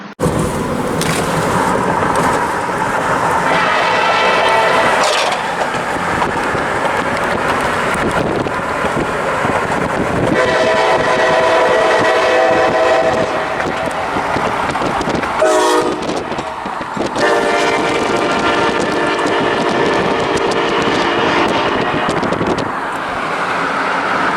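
A loud, multi-tone K5LA locomotive horn on a switching train blasts several long times close by, with wind buffeting the microphone and rail rumble between the blasts.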